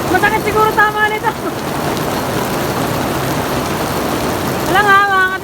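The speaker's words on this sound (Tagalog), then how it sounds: "Umuulan ng buong yelo." Hail mixed with heavy rain pours down steadily in Japan, a dense continuous patter on surfaces, with voices talking over it at the start and end.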